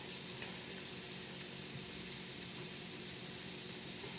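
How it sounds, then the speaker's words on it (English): A cooking dish with feta being stirred in gives off a steady, fairly faint sizzle with a constant hiss and only slight variation, without distinct stirring strokes. "I am stirring in the feta."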